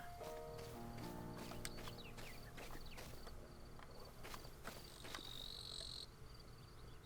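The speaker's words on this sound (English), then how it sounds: "I do not see a cricket, but I hear one." Insect chirping carries through a Zelda Breath of the Wild game environment, a faint, continuous high trill mixed with clip-clopping hoof or footstep ticks and a few brighter bird-like calls toward the end.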